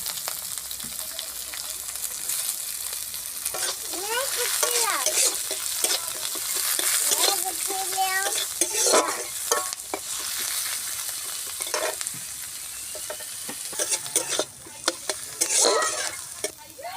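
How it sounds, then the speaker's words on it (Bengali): Chopped green chillies and onion fry in oil for a village-style egg chow mein, sizzling steadily up close with repeated stirring scrapes and clatter, and a little speech in between. "তেল দিয়ে দেবো, কাঁচা লঙ্কা আর পেঁয়াজটা একটু ভেজে নেব।"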